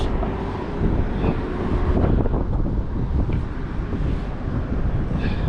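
Wind buffeting a microphone beside a river during magnet fishing, a steady rumbling roar with gusty swells, alone with no talk.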